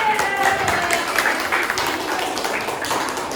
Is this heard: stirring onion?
no